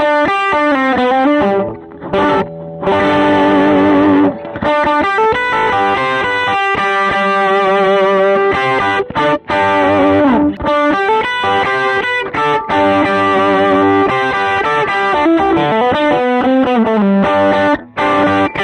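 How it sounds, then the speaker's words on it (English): A Gretsch White Falcon electric guitar plays through overdrive and effects on a Quad Cortex, with loud distorted chords and sustained notes ringing out in phrases separated by brief pauses. "from now on, it's going to be overdrives and effects"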